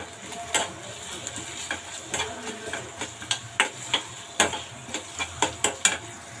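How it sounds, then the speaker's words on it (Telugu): Onions with cardamom, cinnamon and cloves frying in a pan for green chicken curry; a soft sizzle under repeated sharp scraping stir strokes, close and alone. "చూడండి, ఆనియన్స్ బాగా వేగుతున్నాయి కదా"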